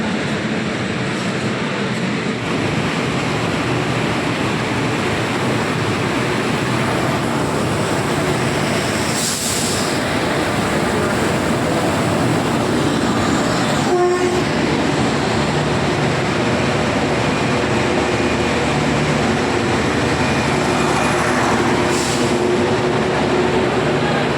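The Kandari Express rolls into a station with a steady, heavy rumble of wheels and carriages, a few sharper clanks breaking through the continuous roar.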